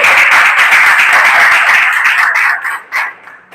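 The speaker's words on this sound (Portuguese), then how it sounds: "Aplausos ao Senhor." A church congregation applauds together during a worship service, with dense, steady clapping that stays loud before thinning slightly toward the end.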